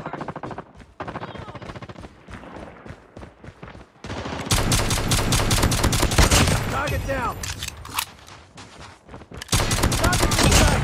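Gunfire in Call of Duty Mobile, with bursts of rapid automatic fire that grow louder and heavier partway through, mixed with game voice callouts and effects, close and intense.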